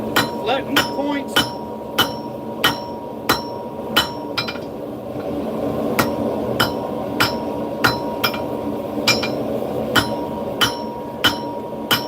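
A hammer strikes metal again and again to flatten a forged point during ornamental blacksmithing, with sharp ringing blows at a steady rhythm about every half second and a short pause midway, over a low background hum.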